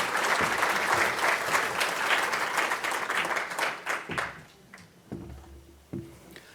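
An audience at a pinning ceremony welcomes President Crite with sustained, dense applause that fills the first four seconds and then thins into scattered claps, with a brief renewed burst near the end.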